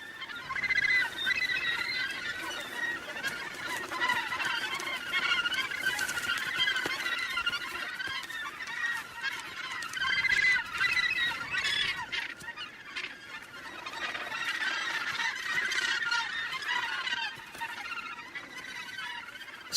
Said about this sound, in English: The gannets are coming home after fishing.